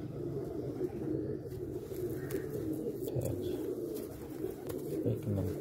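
Pigeons cooing steadily through the clip, soft low rolling coos repeating close by amid a busy loft, with no talking over them.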